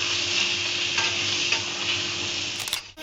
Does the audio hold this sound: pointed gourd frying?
yes